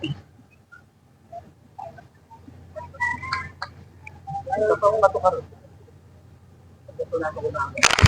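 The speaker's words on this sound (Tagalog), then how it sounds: "Ako ay may manok." Chicken clucks come in short bursts between soft background murmurs, moderately close, with a louder flurry of calls near the end.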